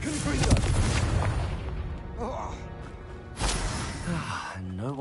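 Confringo fire spell explosions in the Hogwarts Legacy video game, loud booming blasts near the start and again midway, mixed with game effects and a voice speaking over them.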